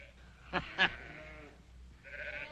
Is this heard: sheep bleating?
yes